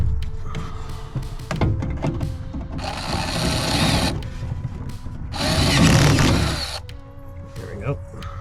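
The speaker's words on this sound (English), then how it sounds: "drill that out." A power drill bores out a hood strut part for a Baja Bug, two loud whining bursts of several seconds each, separated by clicks and handling noises of the tool and metal.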